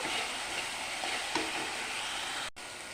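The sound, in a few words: spices being sautéed for mutton curry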